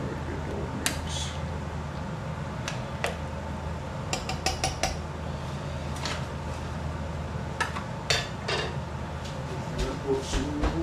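Vegetables being stirred in a cooking pot in a home kitchen, with intermittent metal-on-metal scrapes and clinks from a utensil over steady background hum, no talking.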